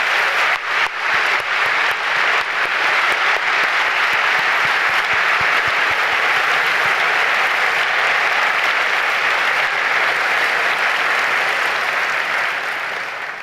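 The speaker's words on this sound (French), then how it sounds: "Je propose qu'on les applaudisse aussi" Sustained applause from a large audience at a university medical graduation ceremony honouring hospital and university staff, dense clapping that swells quickly and holds strong, easing slightly at the end.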